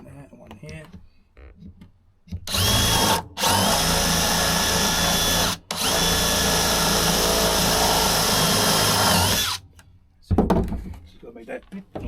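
A power drill drives a screw into a van floor in two long, loud, steady runs separated by a short pause, with quieter handling and voices before and after.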